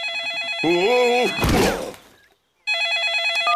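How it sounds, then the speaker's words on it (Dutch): A mobile phone in a Peppa Pig cartoon rings with a loud electronic trilling tune. A voice briefly speaks and a thunk follows, then a short silence before the ringing resumes. "Wat is dat voor geluid? Dat is het mobieltje van papa Big."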